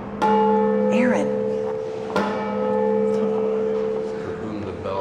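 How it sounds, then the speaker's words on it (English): A church bell at a basilica tolls twice, each strike loud and close with a long ringing hum that carries between them, and faint voices sound underneath. "For whom the bell tolls."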